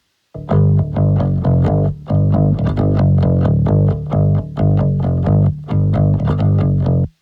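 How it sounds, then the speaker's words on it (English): A distorted bass guitar plays a repeating riff of punchy, gritty notes in short phrases, loud and up front. "this bass has a little bit of grind on it, a little bit of drive, a little bit of distortion"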